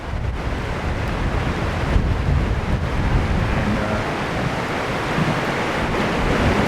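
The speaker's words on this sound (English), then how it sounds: "Running water right now going through some of this property" Floodwater from Colorado Rocky Mountain flash floods near Glen Haven and Estes Park rushes through a property off its usual course, a steady loud roar of broadband water noise mixed with wind buffeting on the microphone, with no talk.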